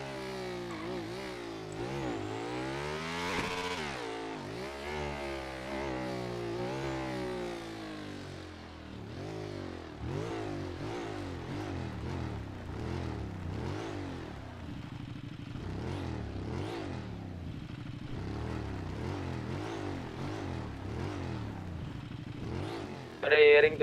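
A motorcycle engine in the video game GTA V revs and drones steadily, its pitch rising and falling in repeated sweeps throughout, with people chatting over it.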